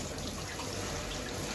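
A tap runs steadily during a dog groom of a Bichon Westie cross, the water set warm and turned down gentle; a continuous close, even hiss of flowing water with no talk over it.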